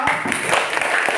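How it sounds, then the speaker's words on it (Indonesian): A primary school classroom claps for a pupil, a short burst of hand clapping mixed with children's voices. "Tepuk tangan buat Pak Rama"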